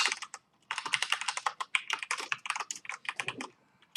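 Rapid, close typing on a computer keyboard while building an Excel valuation: dense bursts of key clicks with a brief pause near the start, then steady clattering to the end.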